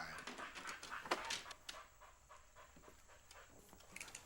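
A dog pants and whimpers outdoors in quick, faint breathy bursts with a few higher whines, close by and fairly quiet, with no one speaking.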